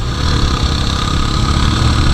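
A motorcycle ridden on a smooth mountain road gives a loud, steady engine drone with low mechanical pulsing and no talk.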